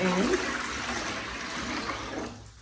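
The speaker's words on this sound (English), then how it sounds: "So you just gotta pour the water into the side." Water splashes and trickles steadily as it is poured into the side reservoir of a wet tile saw, a continuous close wash of liquid that tapers off near the end.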